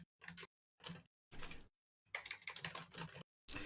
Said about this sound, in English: And people say my keyboard's clacky.